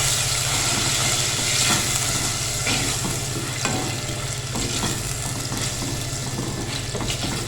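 Two tablespoons of ginger-garlic paste fry in five tablespoons of oil in a deep pot as the tempering for dal, giving a loud, continuous close sizzle broken by occasional stirring scrapes.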